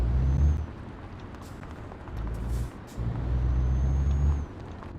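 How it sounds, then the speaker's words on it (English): A truck in Euro Truck Simulator 2 idles with a low engine rumble, broken by a brief burst of air brake hiss midway through. No voices are heard. "Oh, my emergency brake is on."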